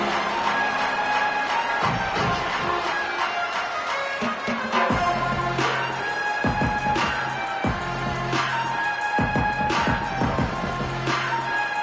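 A college football stadium crowd roars after a punt return, a loud, sustained wall of cheering that swells and pulses in waves throughout.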